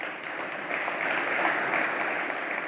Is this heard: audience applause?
yes